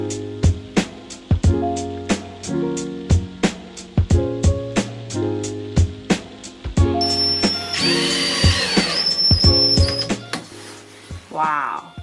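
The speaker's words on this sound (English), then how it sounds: "Then Harry used a jigsaw to cut the cladding up." A jigsaw cuts wooden cladding in a camper van, giving a string of sharp, rhythmic rasping bursts up close, with a longer steady whine partway through and voices talking alongside.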